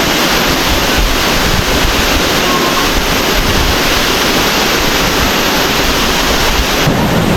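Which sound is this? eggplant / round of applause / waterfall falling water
waterfall falling water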